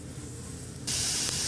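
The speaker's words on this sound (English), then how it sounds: "Alright, so that is sizzling nicely." Melted butter for soup starts sizzling in a pot, a soft low crackle that abruptly becomes a bright, steady hiss partway through, fairly quiet and with no talking.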